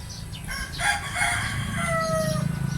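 Chickens cluck and a rooster crows, several birds close by with layered calls over a steady low rumble.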